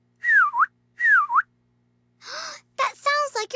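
A person imitates a bird's whistle with two rising-and-falling whistled notes, a pet bird's call, followed by a gasp and a short burst of voiced exclamation, close and clear.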